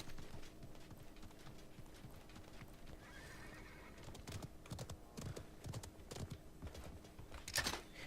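Horse hooves clip-clop in rapid, uneven beats in the Realm Royale video game, with a neigh rising near the end, moderately loud and alone.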